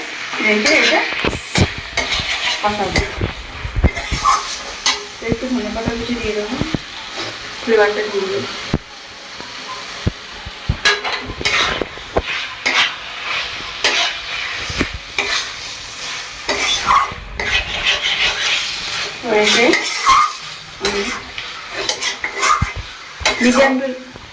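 Mutton curry pieces sizzle in a pan while a spatula scrapes and clanks against the metal in frequent stirring strokes, continuous and close, with a voice speaking now and then over the cooking.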